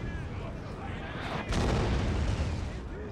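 Mortar artillery fire in a Total War battle set in the Thirty Years' War, a heavy boom landing midway over a constant dense rumble of battle noise, loud and continuous, with a voice talking over it.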